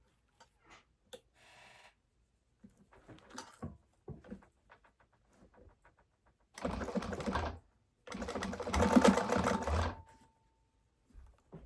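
A sewing machine stitches a gusset seam straight across in two sustained bursts of rapid, close clatter, preceded by quieter handling taps and clicks.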